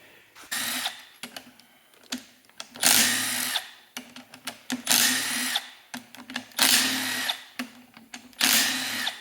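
Power tool bursts while tearing down a Polaris XLT triple monoblock snowmobile engine in a shop, a series of loud whirring drill-like runs, each a second or two long, separated by short pauses and clicks, with no talking.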